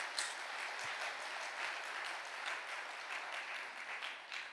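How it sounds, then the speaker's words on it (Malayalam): A church congregation at a prayer talk clapping together, a steady wash of applause that holds evenly throughout, slightly distant with room echo. "ഒന്ന് കൈയടിച്ച്."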